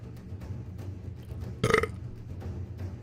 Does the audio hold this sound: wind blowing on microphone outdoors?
no